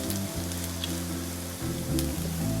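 Shallots and coconut pieces fry in a pan with a steady, close sizzle and crackle that holds evenly throughout, with no voices.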